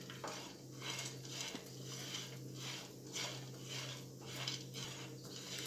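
Almonds, cashews and pistachios roasting together in a pan for khajur pak, quiet rhythmic scraping and clinking of a spoon against the pan in repeated strokes, faint and close over a low steady hum.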